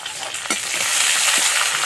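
Food fries and is stirred in a pan over an outdoor fire, a close, loud hiss of sizzling with a couple of short scraping strokes and no talking.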